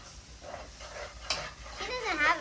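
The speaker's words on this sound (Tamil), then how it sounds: "நல்லா வதக்கணும் பிடிக்காம" Onions sauté in a pan during outdoor family cooking, a soft sizzle with a few stirring scrapes and one sharp clink, close by, while a voice speaks briefly near the end.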